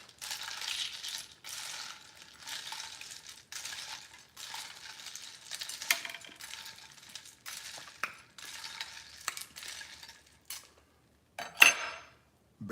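A butter knife stirs a ginger beer cocktail in a glass, giving a run of bright metallic clinks and scrapes in quick, irregular bursts, close and fairly quiet, with a sharper clink near the end.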